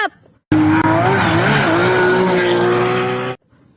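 Toy race car played with a racing car sound effect: a loud, continuous engine roar with squealing tires lasting about three seconds, standing alone between quiet gaps.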